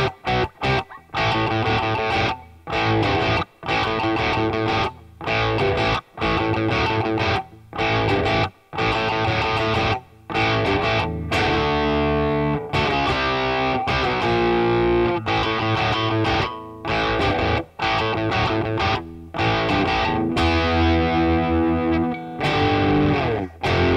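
A distorted electric guitar plays chords and riffs with short pauses between phrases, carrying a faint trace of reverb.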